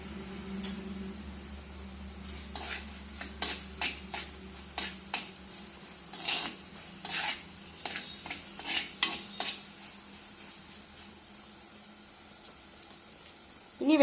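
Spoon stirring turmeric and asafoetida powder as they fry in oil in a pan, with soft sizzling under repeated scraping and clinking strokes at an irregular pace, close by.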